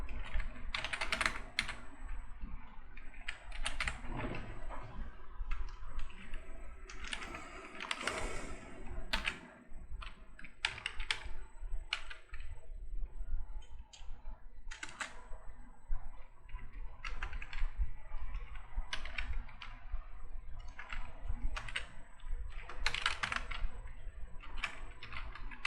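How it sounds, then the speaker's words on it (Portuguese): Steady typing on a computer keyboard while coding a Python exercise, a dense run of close, crisp key clicks with brief pauses and no talking. "Deixa eu só terminar de digitar."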